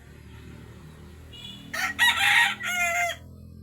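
A rooster crows loudly and close by in a long, strained call, following quieter clucking and rustling from chickens fighting.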